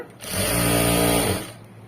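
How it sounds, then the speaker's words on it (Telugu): A sewing machine stitching top stitches along fabric, a single loud, close run of rapid whirring lasting about a second, alone without talk. "ఇవన్నీ టాప్ స్టిచ్చెస్ వేయాలన్నమాట ఇలా నీట్ కుట్టుకుంటూ వెళ్ళిపోవాలి"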